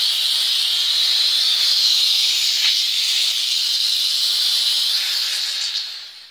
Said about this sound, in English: We're going to let the steam just sit on it for a little bit.